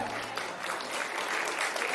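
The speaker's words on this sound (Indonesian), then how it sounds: "Tepuk tangan dulu buat JCI Indonesia." Audience applause at the JCI Indonesia TOYP 2023 gala dinner, a steady wash of many hands clapping at moderate level for the full two seconds, with no speech over it.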